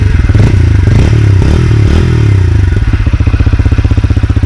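Exhaust of a 2026 TVS Apache RTR 160 4V top-variant motorcycle: a loud, close, steady throbbing idle with a brief rise and dip in revs.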